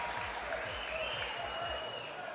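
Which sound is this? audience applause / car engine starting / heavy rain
audience applause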